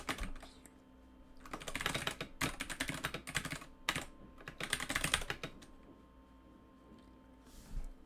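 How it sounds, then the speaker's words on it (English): Someone types on a computer keyboard with close, clattering keystrokes in uneven flurries and short pauses, with a few isolated taps toward the end and no speech. "so you don't have to watch me typing all this stuff out"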